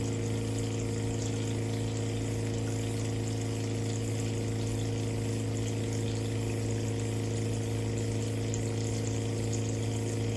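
Cleaning-liquid dispenser pump running steadily as it fills a one-quart spray bottle, a constant loud motor hum with a rushing liquid hiss, no voices.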